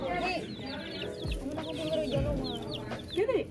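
Chickens cluck in short bursts through a school setting, several birds calling near the microphone over a steady murmur of people and background noise.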